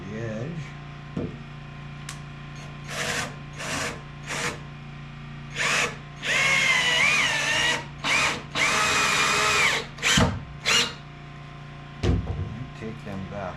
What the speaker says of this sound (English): So here, I'm just putting a couple of screws by the edge.